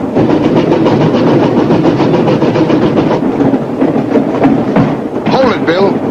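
A steam train in a 1951 Western slows along the rails, its loud steady rumble and clanking wheels filling the scene, with a screeching brake squeal rising near the end; a voice speaks over it.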